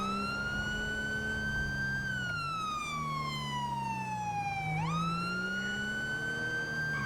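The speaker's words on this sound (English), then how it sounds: "I'll use my sirens." A police car siren wails continuously in the GTA 5 LSPDFR game, sweeping down and back up in long, loud, steady cycles over a low vehicle engine drone, with no voices.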